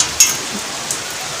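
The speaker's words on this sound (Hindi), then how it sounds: "बाहर बहुत ज़ोर से बारिश हो रहा है, ये देखो।" Heavy rain falls outside as a steady, loud wash with a couple of brief sharper splashes, with no voices over it.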